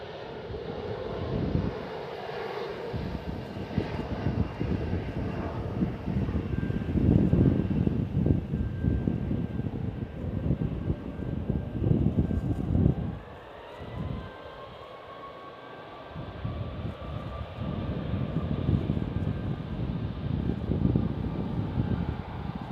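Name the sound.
Embraer E175 jet taking off for Seattle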